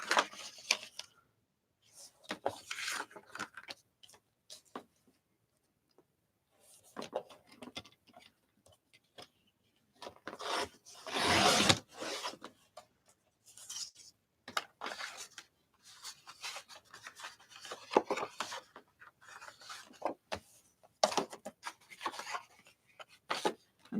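Paper being trimmed for a handmade folder zine, heard as soft intermittent rubbing and rasping cuts in short bursts, with one louder broadband swipe near the middle, close and quiet in an otherwise still room.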